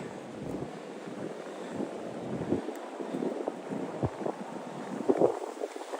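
Wind gusting across the snowy New York Botanical Garden in winter, a low rumbling buffet against the microphone with soft swells and no voices.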